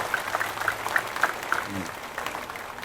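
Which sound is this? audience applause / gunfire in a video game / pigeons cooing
audience applause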